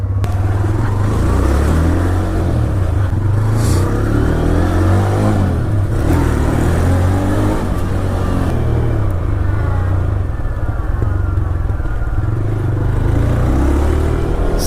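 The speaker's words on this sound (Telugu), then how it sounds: "సో బండి అయితే స్టార్ట్ అయింది." A TVS Raider 125 motorcycle with a 125cc engine running close by, a loud, steady rumble with rising and falling revs throughout.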